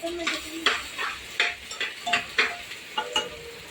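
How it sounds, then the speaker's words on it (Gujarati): Rhythmic scraping and clinking of a spatula against a pan, about a dozen strokes, over a soft sizzle of onions cooking in oil. "તો ડુંગળી વઘારી લીધી છે"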